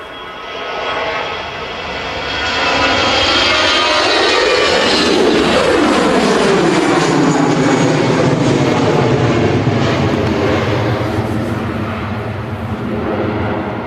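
An Airbus A321 jet departs Manchester Airport's runway 23L in the early morning, its engine roar swelling from a distant rumble to a loud, sustained thunder with a sweeping whine as it passes, then holding strong.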